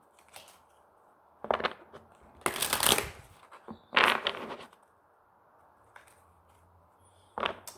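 Tarot deck being shuffled by hand, crisp papery riffles and flutters in several uneven bursts separated by quiet pauses, close and fairly loud.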